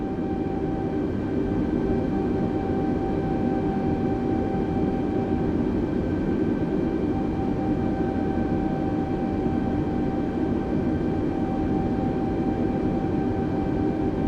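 A light aircraft taxis at a small municipal airport after a flight from Denver, its engine giving a steady, loud cabin drone with constant tonal hums and no speech throughout.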